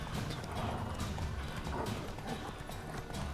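A horse gallops in The Witcher 3: Wild Hunt, rapid steady hoofbeats drumming close and loud throughout the clip.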